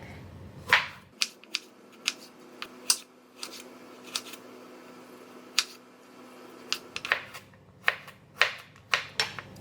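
Knife slicing a hairy gourd into thin slices on a board, sharp close chops and taps arriving in an irregular rhythm, clustered at the start and the end with a quieter stretch between.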